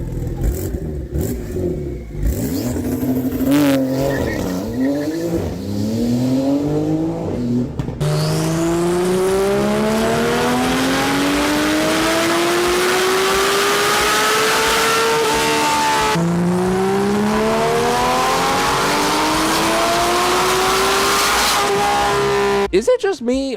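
A Porsche 911 GT3 RS engine revs hard and climbs repeatedly through high rpm sweeps, loud and close, with brief pauses between pulls and no voices.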